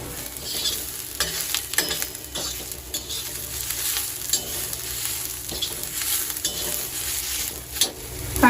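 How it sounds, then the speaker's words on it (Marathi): Shivali masala spice paste sizzling and roasting in a pan with onion, with repeated scraping stirs of a spoon at close range and no talking. "मी आता वाटण भाजून घेते"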